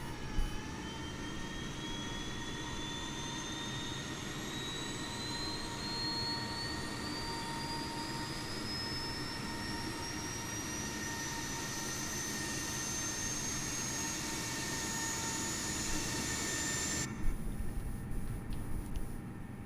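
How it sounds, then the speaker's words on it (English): An Airbus A320 auxiliary power unit spools up in Microsoft Flight Simulator, a steady turbine whine climbing gradually in pitch before levelling off, with a low rumble underneath. "APU is up. APU is available."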